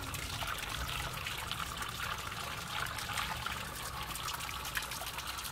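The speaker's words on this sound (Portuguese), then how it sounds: "Vocês estão vendo como a água entra girando?" Water trickles and swirls steadily into the intake port of an engine cylinder head, a continuous close hissing stream without pauses.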